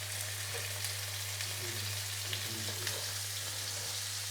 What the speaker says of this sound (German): Und in die Pfanne rein und von allen Seiten anbraten.